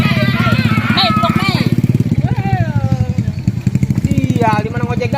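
A motorcycle engine runs close and steady throughout, a low continuous drone as the bike rides along as a motorcycle taxi, with voices talking over it.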